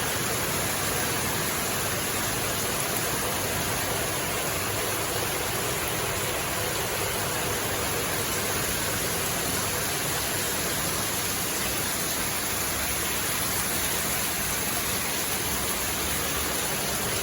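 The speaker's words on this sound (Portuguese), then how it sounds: "Chovendo bastante hoje." Heavy rain falls in a steady, loud, unbroken hiss, a dense continuous wash of water with no voices over it.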